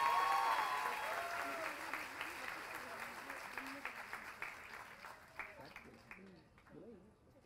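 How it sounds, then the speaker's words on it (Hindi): An audience at a Hindi kavi sammelan poetry recital breaks into loud, dense applause that slowly thins and fades, with scattered voices and cheers rising over the clapping. "मैं चाहूंगा एक बार आप जोरदार तालियां बजाएं"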